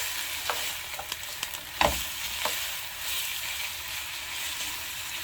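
Chicken stir fry with vegetables frying in a pan, a constant close sizzle with scattered utensil clicks and one sharper scrape of stirring, no voices.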